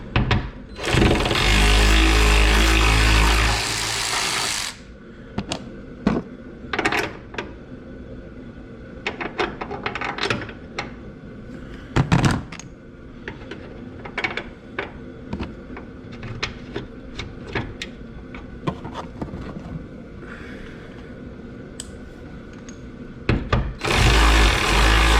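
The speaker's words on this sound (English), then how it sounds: "to go get the electric ratchet" An electric ratchet tightens a part on a Nissan GT-R. A loud whirring run of a few seconds comes first, then clicks and knocks from the work, and a second short burst of the ratchet near the end.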